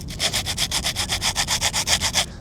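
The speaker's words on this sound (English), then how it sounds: "so I'm gonna use my bigger scraper" A large scraper rasps in quick, even back-and-forth strokes across an old headstone, lifting lichen off the stone; about fifteen rhythmic scrapes, close and steady, with no talking.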